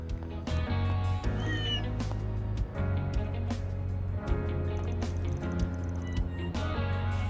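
A cat meows in the video game Trails through Daybreak 2, several clear, close cries in a row over steady game music, with no voices heard.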